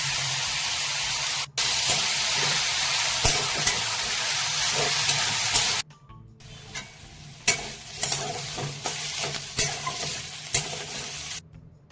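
Lentils fry in a pan with turmeric, giving a loud, steady sizzle with scraping stirs. The hiss drops out briefly twice, then resumes with sharp clinks and splutters.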